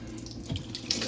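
Coolant water spilling out of a Porsche 944 engine after the water pump is pulled off, a short close splashing trickle onto a hard surface, with no talk over it.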